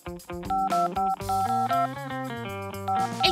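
Rapid sequence of short electronic phone keypad beeps at varying pitches, played one after another in a quick, uneven rhythm as a locked phone's passcode is entered, loud and close with no talking.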